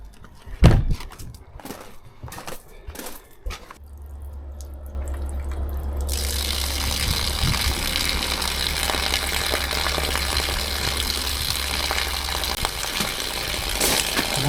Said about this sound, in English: So now we're going to turn the water on and we'll start flushing it.